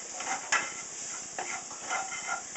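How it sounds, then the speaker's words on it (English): Garlic being stirred into oregano, cumin and cinnamon in a pan for enchilada sauce, a steady soft sizzle with light scraping and a couple of sharper utensil clicks, close and continuous. "We'll stir that garlic in."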